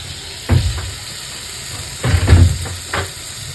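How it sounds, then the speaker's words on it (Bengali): Rice and lentils frying in oil in a home kitchen sizzle in short bursts as they are stirred, with about three louder scraping, hissing surges over a soft steady hiss. "এর সাথেই চাল আর ডালটাকে ভেজে নিতে হবে খুব ভালো করে।"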